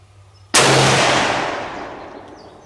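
Single loud, close gunshot from a Swiss K31 rifle at an outdoor long-range shooting session, a sharp crack followed by a long rolling echo that slowly fades.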